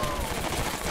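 An upgraded PTRS rifle fires in a Custom Zombies game, with a short, continuous stretch of loud gunfire roar and rattle at steady level for about a second.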